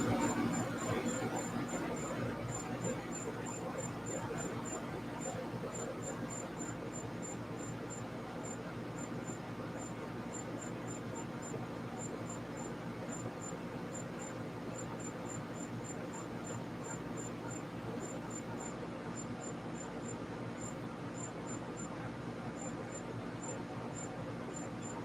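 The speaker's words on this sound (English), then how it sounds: "I must have a cricket in the corner of the studio" A cricket chirps steadily in the corner of a home studio in a garage, a fast, high, pulsing trill that runs without a break over a constant low room hum and faint background noise.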